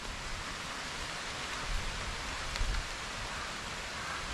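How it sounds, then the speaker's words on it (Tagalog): Steady rain falls continuously in an outdoor rural setting near a hut, a dense even hiss with a few slightly heavier patters, and no voices. "Talaga pong yan ang ulan."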